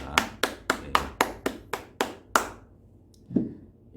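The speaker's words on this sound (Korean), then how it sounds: "가정에서도 우리 박수로 환영합니다" Hands clapping to welcome new members of a church youth group, about nine sharp, evenly spaced claps from a few people close by, tapering off, then one last lone clap after a brief pause.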